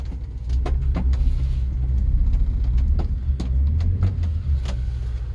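Subaru Sambar KS4 Japanese kei truck engine runs with a low, close rumble and uneven idle, marked by sharp clicks and knocks from the cab along the way.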